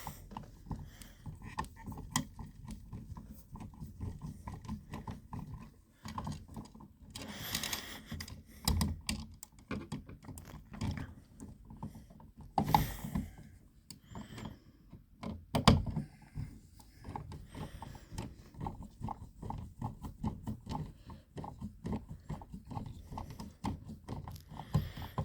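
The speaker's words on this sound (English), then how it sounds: "It's a simple matter of screwing in these screws" A screwdriver drives the screws of a light switch, giving close, irregular clicks, taps and faint scraping in uneven bursts with short pauses in a quiet room.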